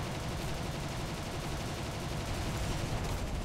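Rear-mounted .50 caliber machine guns on a PBY flying boat fire in the War Thunder flight game, a dense, unbroken roar of rapid gunfire that holds loud and even throughout, with no voices.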